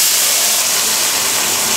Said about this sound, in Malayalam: ഇതിലേക്ക് നമുക്ക് കുറച്ച് വെള്ളം ചേർത്ത് കൊടുക്കാം.